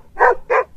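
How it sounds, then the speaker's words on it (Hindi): Stray dogs bark twice in quick succession, two loud, full barks close by with a short gap between them and no other sound. "कुछ आवारा कुत्तों के भौंकने की आवाज सुनाई देती है"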